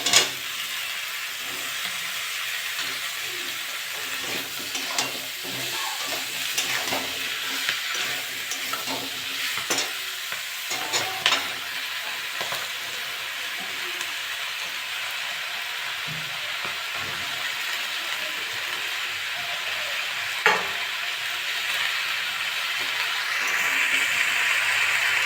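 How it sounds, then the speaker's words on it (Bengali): Malabar spinach and potatoes frying in a spice paste, with a steady close sizzle and hiss and intermittent scraping stirs throughout, no talking. "মশলাটা কষে নিয়েছি, এবার পুঁই শাক আর আলুগুলো দিয়ে দেবো।"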